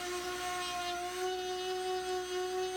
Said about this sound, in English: the goal is to keep the sander as flat as possible on the bumper